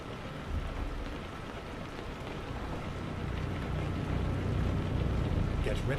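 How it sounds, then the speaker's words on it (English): Steady rain hisses across the scene while driving a truck in Euro Truck Simulator 2, a broad continuous wash under a low engine rumble, growing slightly louder toward the end. "Ooh, rain."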